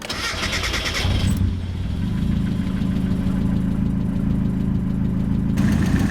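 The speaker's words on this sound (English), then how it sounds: "Now that it's running, you just want to survey the engine bay and check for any leaks." A turbocharged Mazda Miata engine cranks briefly, catches and settles into a steady, close idle with a low, even throb. No one speaks.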